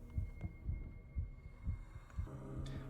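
During a ghost hunt on the Granny's House map in Paranormal Cleanup, a steady heartbeat thumps in a regular double-beat rhythm, low and muffled, over a soft droning hum with no talk.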